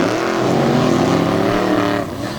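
Two monster trucks launch off the start at an arena event, their engines roaring loud and continuous as they rise together, with no voices.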